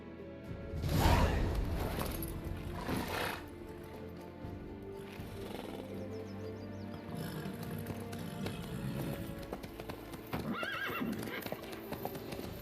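Horse hooves clip-clopping along with a neigh in The Witcher 3, steady hoofbeats under soft ambient game sound, with one loud whinny near the start.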